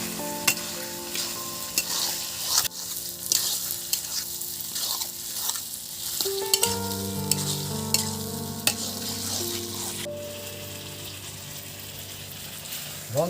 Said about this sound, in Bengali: মটনটা ভালো করে একদম কষে নিয়েছি।